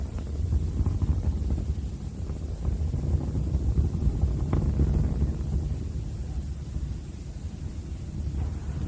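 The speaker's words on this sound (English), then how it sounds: "Three engines on Columbia now back at full throttle" Space Shuttle Columbia's three main engines roaring at full throttle during the STS-50 launch climb, a steady, distant, broadband rumble that holds at an even level throughout with no voices.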